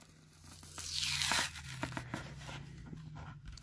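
Cardboard card packaging of a Hot Wheels Kool Kombi collector car being torn open, a loud rip building over about a second, then smaller crinkles and tugs at close range.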